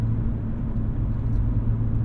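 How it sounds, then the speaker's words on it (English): Muffled interior drone of a BMW M3 on the move, steady low engine and road rumble heard through binaural earbuds, constant and fairly quiet with no talking. "The car is way quieter."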